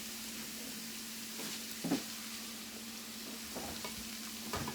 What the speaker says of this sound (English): So all we're gonna do is this and kind of fry it a little bit.